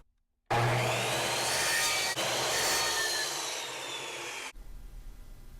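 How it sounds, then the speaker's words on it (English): A miter saw slices through a wood piece in one continuous four-second cut, a loud whirring rasp that starts abruptly and ends with the blade spinning down quietly, with no talk. "if you don't have a miter saw, you can use a jigsaw too, or a handsaw. But this is the easiest way to cut it."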